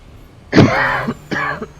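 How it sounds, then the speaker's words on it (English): A person coughs during a live stream, one harsh cough followed by a second shorter cough, close and loud with no speech. "I'm so sorry for coughing like that."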